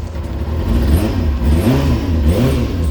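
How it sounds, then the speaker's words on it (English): A Kawasaki Ninja motorcycle engine runs just after a cold start with the choke off, a loud, close, steady mechanical rumble with slight wavering revs, alone without talk. "that's just sort of a cold start and the choke's now off. That's pretty good."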